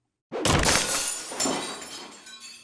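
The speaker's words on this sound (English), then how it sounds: "The glass cracked beneath him, shards digging into his back." A glass coffee table cracks and shatters as an audiobook sound effect: a sudden loud break, then a second burst of smashing and tinkling shards that trail off, close and alone.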